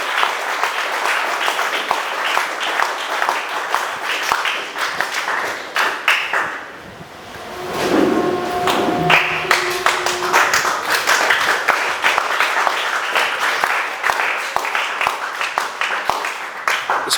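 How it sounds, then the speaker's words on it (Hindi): An audience claps steadily and loudly for Anuj, a class 12 student, at a school event, the applause briefly dipping mid-way before swelling again and continuing to the end. "अनुज के लिए थोड़ा ताली बजाएं।"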